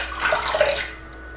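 Water splashes and trickles steadily while a safety razor is rinsed during a wet shave with goat's milk soap lather, a close, continuous running-water sound that fades slightly toward the end.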